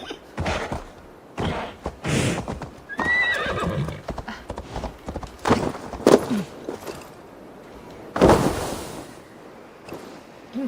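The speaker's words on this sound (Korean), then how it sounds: "눈 밟을 때 소리 너무 좋은데." Hooves of a horse crunching through deep snow in Assassin's Creed Valhalla, a steady run of clip-clop steps with a whinny or two, close and fairly loud with no talk.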